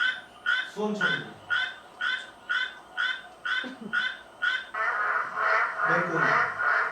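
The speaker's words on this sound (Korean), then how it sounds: "수원청개구리" Regular, evenly spaced nasal Suweon tree frog calls repeat about twice a second, then merge into a denser continuous chorus toward the end.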